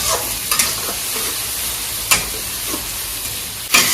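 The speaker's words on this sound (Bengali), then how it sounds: "এই মছলাখিনিও ইয়াতে দি দিম এতিয়া এয়া দি দিলোঁ একদম লগে লগে ভাজিম এতিয়া" Spice masala fries in hot oil in a pan for mutton curry, a constant close crackling sizzle broken by a few sharp metallic scrapes of stirring.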